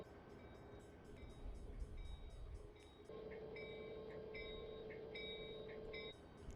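In Train Simulator 2021 on Donner Pass, a train rolls slowly forward in a faint, steady rail rumble, with a sustained tone entering partway through and some short repeated high chimes.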